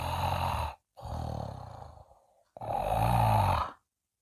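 A voice imitates Mrs. Bear's snoring in a children's story read aloud: three long, rasping snore breaths, the middle one trailing into a softer wheeze, separated by short silences, close and fairly quiet.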